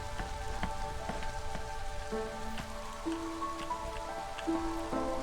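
Steady drizzle patters across a surface during drizzle season in a video game, a continuous soft hiss with scattered drops, overlaid by sustained game music tones.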